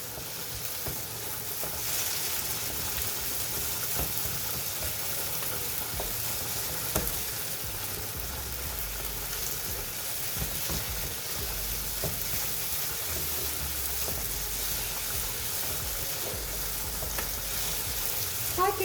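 Tomato paste sizzles and fries steadily in a pan while being sautéed for Turkish dry bean stew, a continuous crackling hiss with occasional stirring clicks and no voices.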